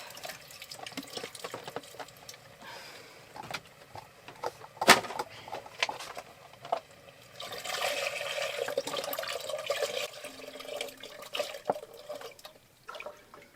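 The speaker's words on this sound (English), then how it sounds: "now I'm going to add the broth" Broth pouring into a cooking pot in an RV kitchen, a steady splashing liquid stream running for several seconds amid faint clinks and handling noises, close and moderately loud.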